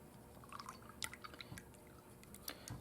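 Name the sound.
paintbrush being washed out in water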